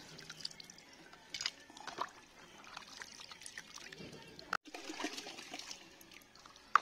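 Chopped chicken washed by hand in a basin of water while cooking caldereta, soft sloshing, dripping and splashing close by, in uneven bursts with a brief pause midway, while a person talks.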